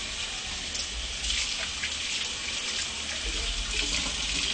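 Water runs steadily from a kitchen tap for hand washing, a continuous close splashing hiss with no talking.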